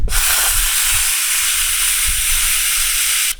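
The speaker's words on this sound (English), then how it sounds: "Then I'll wrap this in aluminium foil, steam it for a couple of minutes and see whether it stays in place." Bonsai deadwood wrapped in aluminium foil being steamed, giving a loud, continuous broadband hiss that holds steady for several seconds before cutting off abruptly at the end.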